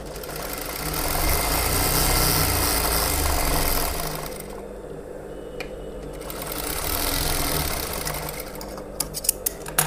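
A sewing machine stitches fabric in a continuous rattling whir up close, pausing briefly midway before running again and ending with a few sharp clicks, with no talking.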